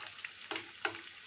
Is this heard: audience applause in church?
no